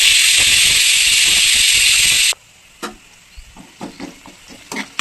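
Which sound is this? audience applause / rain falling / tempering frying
tempering frying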